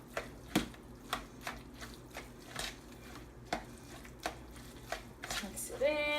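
Mayonnaise is stirred into grated beets for a beet salad, giving soft irregular squishing and scraping strokes at close range, with a light clink near the end.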